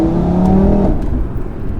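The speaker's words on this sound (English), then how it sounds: "I love the upshift and the downshift noise" A catless Audi RS3 revs hard and shifts gears, its loud exhaust rising in pitch and then cutting off sharply at the change, close and alone.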